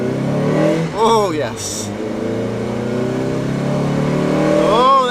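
Mazda MX-5 roadster engine revving on twisty country lanes, pitch rising and falling with gear changes, loud and close, with brief exclamations from an occupant over it.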